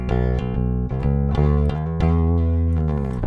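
An electric bass guitar track soloed during mixing of a band cover, being EQ'd after the cajon part: loud, steady, sustained low notes that change pitch in a continuous line, with no voices.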